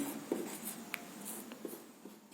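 Notes being written by hand, faint scratchy pen strokes with a few light taps over a steady hiss of room noise.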